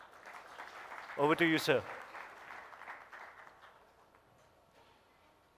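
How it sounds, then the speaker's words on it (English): Audience applause opens a session at the Mindmine Summit 2017, a business summit in India: a dense wash of clapping fills the room, rising then fading, while someone speaks over it. "With a big round of applause, can we start the session?"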